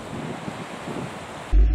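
Waves surging in a tidal race at the tip of Cape York, a steady rough wash of water buffeted by wind noise that ends in a short, loud low thump.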